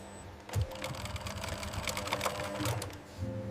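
A robotic sewing machine stitches leather hide in a factory, giving a quiet, rapid run of mechanical stitching clatter that pauses briefly and resumes.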